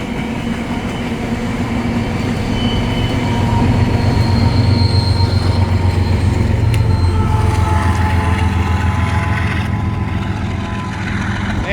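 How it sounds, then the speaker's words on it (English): A BNSF freight trash train rolls past close by, loud and continuous, its wheels squealing and grinding steadily over the rumble of the cars. "I was able to catch this whole train"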